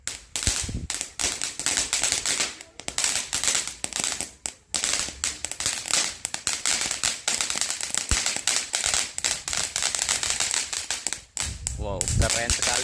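A jumbo crackling firecracker fountain goes off for Ramadan, pouring out a dense, continuous stream of rapid loud cracks and pops for many seconds, with excited voices exclaiming over it toward the end.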